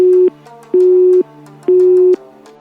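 Telephone call tone on an unanswered call: a steady mid-pitched beep sounds in three long pulses separated by short gaps, loud and clear with no talking.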